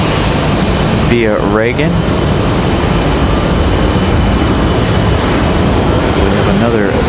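A PSA Airlines American Eagle CRJ regional jet departing Raleigh-Durham airport produces a loud, continuous engine roar with sweeping pitch shifts, while a person speaks briefly over it.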